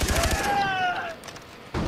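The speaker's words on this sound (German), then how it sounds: "Ich hab gerade irgendwo wieder Schüsse gehört." A quick burst of rapid gunfire in the video game Far Cry 3 crackles at the start, followed by a ringing tone, then another sharp shot at the end.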